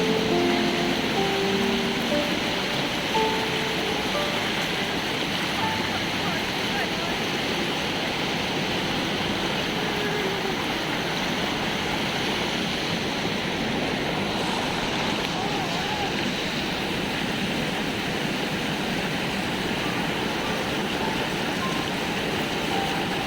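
Cold mountain waterfall near Dharamshala, a steady broadband rush of falling water that stays loud and continuous throughout, with a few faint tonal sounds early on.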